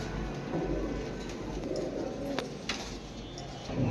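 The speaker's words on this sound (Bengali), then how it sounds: "মাশাল্লাহ এক জোড়া ইন্ডিয়ান কবুতর" A pair of Indian pigeons coo softly at close range over a steady low background hum, with a couple of brief sharper knocks midway and no voices.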